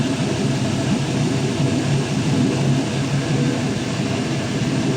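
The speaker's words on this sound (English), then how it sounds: "Idle set to about 700 RPM when it's warmed up" A 5.3L LS truck engine idles steadily on a shop test stand, a loud continuous low rumble with no pauses and no voices over it.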